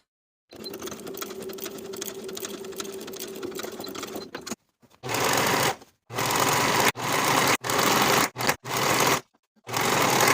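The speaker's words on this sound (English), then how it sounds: "Sew closed the gap in the stitches, then finish the seam all the way around." A sewing machine stitches a seam closed on the elastic casing of pajama pants, running in several loud bursts of varying length separated by short pauses, after a quieter stretch of low mechanical hum at the start.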